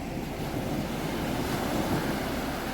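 Sea waves washing onto Devbag beach near Malvan in Sindhudurg on a morning, a steady continuous roar of surf mixed with wind buffeting the microphone, with no distinct individual breaks.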